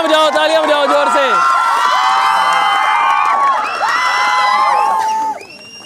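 A college audience cheers and whoops loudly, a dense crowd roar with shouting voices that holds strong before dropping off abruptly near the end.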